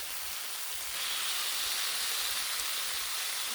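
Bacon sizzling on a Blackstone griddle outdoors, a steady broadband hiss that swells slightly partway through and holds constant, close and moderately loud with no talk.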